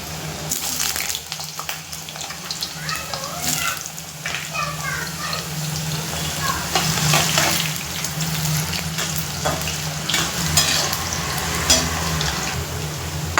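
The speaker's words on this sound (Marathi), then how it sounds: "बटाटे कुरकुरीत होत नाही तोपर्यंत आपण तळून घेणार आहे" Potatoes fry in hot oil in a home kitchen while biryani is prepared, a steady dense sizzle and bubbling hiss running throughout with occasional stirring clatter.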